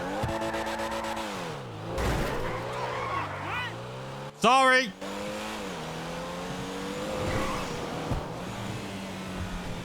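Engine of a Porsche-like sports car in GTA 5 Online revs and shifts through gears at close range, a sharp tire squeal cutting in briefly midway, with a voice speaking over the start.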